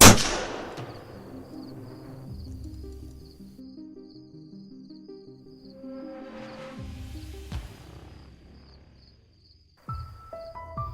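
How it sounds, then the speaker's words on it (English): A single sharp gunshot rings out during a night hunt for wild boar on a farm in Georgia, a loud crack at the start that decays into a quiet night scene with steady insect chirping and another distant sharp report near the end. "A decisive shot was fired."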